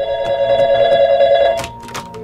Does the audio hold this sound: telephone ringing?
yes